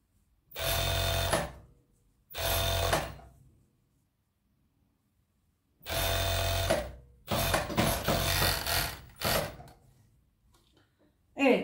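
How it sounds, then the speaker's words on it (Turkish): Sewing machine stitching the hood onto a hooded cardigan, running in several loud, close bursts of steady whirring with brief pauses between them, ending with a few shorter starts and stops. "Dikiyorum."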